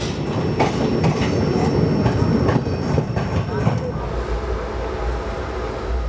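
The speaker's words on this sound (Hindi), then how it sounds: "इस दौरान हमारी ट्रेन की क्रॉसिंग होने वाली है मनमाड काचीगुड़ा अजंता एक्सप्रेस के साथ।" The Manmad–Kacheguda Ajanta Express crosses alongside, heard as loud, dense wheel clatter and rail noise with repeated rhythmic clacks and faint squeal, ending abruptly as the last coach passes and a softer rumble remains.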